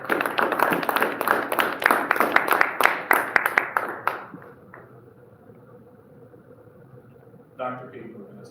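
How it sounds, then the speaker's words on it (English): An audience applauding a speaker at an author discussion event, a dense burst of many hands clapping that fades out after about four seconds before a voice begins talking. "One more round of applause for this gentleman."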